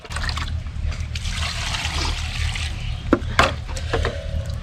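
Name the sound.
pouring water onto spinach leaves in a pot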